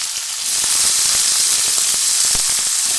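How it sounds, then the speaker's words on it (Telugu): Washed cabbage pieces hit a hot pan of onion and green chilies, setting off a loud, steady hiss and sizzle with scattered crackles that carries on evenly from start to finish. "దాంట్లోనే ఈ కడిగేసి ఉంచే క్యాబేజ్ ముక్కలు అయితే వేసుకుంటున్నాను"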